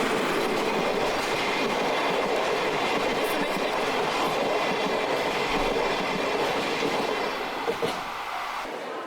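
The Sagano Romantic sightseeing train in Kyoto rolling past, a steady loud rumble with rhythmic wheel clatter and faint squeal, sustained before easing slightly at the end.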